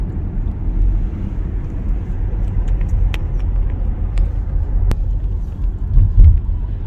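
A car on a long 218-mile road trip home, with a steady low engine and road rumble and a few faint clicks and knocks inside the cabin, continuous throughout.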